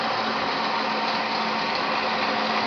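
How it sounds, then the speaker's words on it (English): A drill press runs steadily while a 1/4 inch bit bores into metal, giving a constant loud whirring hum with a faint mechanical whine and no pauses. "Now I'm going to demonstrate drilling using a 1/4 inch drill bit."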